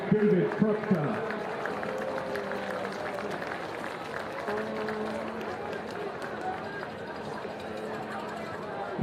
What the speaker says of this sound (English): Let's give a big round of applause for the 2024 Missouri Boys Soccer Official of the Year, David Krupka.